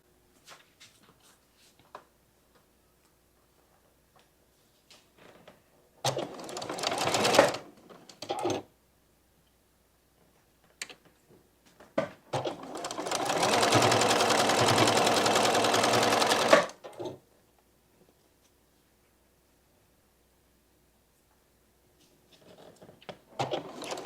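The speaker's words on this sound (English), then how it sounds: "I'm going to sew this first so that I can take it off the machine." Sewing machine stitching fabric for a bat quilt block, running in short bursts and then one long steady whirring stretch of rapid needle chatter, close and loud between quieter handling pauses.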